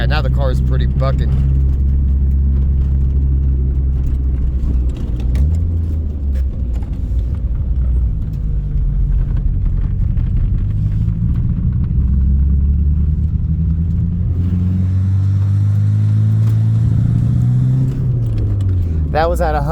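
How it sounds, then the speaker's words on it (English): A badly misfiring car engine making the vehicle buck, heard as a loud, lurching rumble that surges and drops in pitch, with someone talking over the noise. "now the car is pretty bucking"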